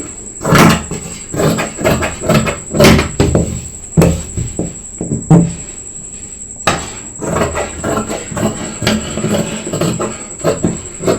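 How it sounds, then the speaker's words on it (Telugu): Fabric being cut for the back panel of a boat neck blouse, giving a run of close, sharp scissor snips and tabletop knocks in bursts with short pauses, over a steady high electrical whine. "ఇలా కట్ చేసుకోవాలండి బ్యాక్ పార్ట్ని."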